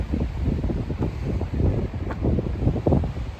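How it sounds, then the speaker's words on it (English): Gusty wind at the highest point of the Appalachian Trail roars and rumbles against the microphone, rising and falling in strong blasts with no voices. "It's super windy."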